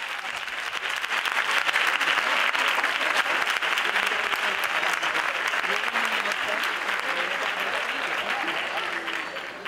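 Loud, sustained applause from a crowd at the San Roque 2020 carnival proclamation as the carnival goddess is called to the stage, steady clapping filling the whole stretch with some voices mixed in.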